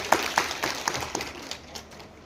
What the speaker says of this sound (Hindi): इन सब के लिए तालियां हो जाएं